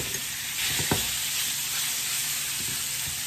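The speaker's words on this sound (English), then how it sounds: "Gonna break it up, spread it out, so I can get a nice sear on it." Steak sizzling on a hibachi griddle over medium heat, a steady close hiss of searing with a couple of soft scraping knocks as the meat is broken up and spread out.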